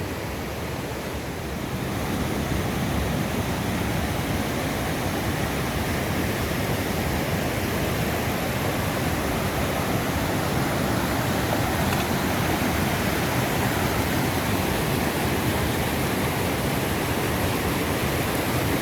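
A fast river at a Pacific Crest Trail water crossing roars close and loud, a dense, unbroken rush of water that kicks in after a brief quieter start.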